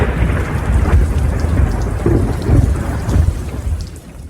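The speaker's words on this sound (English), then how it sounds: "It begins to rain outside, and thunder and lightning strike once more." Heavy rain pours steadily while deep rolling thunder rumbles throughout, loud and close, with no talking.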